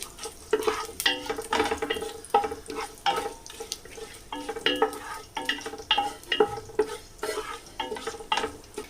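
Bay leaves and whole spices crackle in hot oil for a chicken biryani with basmati rice, with repeated stirring scrapes and spoon-on-pot knocks in an uneven rhythm over a steady sizzle.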